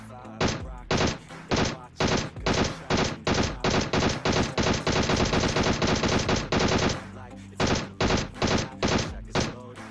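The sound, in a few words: gunfire and AWM sniper shots in PUBG Mobile video game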